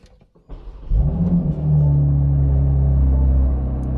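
A BMW M3 (G80) engine starts with a brief cranking whir, then catches and flares into a loud, deep rev before settling into a steady rumbling idle nearby.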